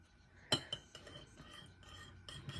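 A utensil stirring slime mixture in a container, with a sharp clink at the start followed by quieter scraping and tapping strokes, fairly faint and close.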